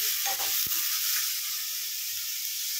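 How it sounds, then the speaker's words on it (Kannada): Boiled mixed vegetables fry in a hot pan for veg kolhapuri, giving a steady, loud sizzle with a brief stirring clatter near the start and no voices. "ಇದನ್ನು ಸ್ವಲ್ಪ ಫ್ರೈ ಮಾಡೋಣ ಇದರಲ್ಲಿ"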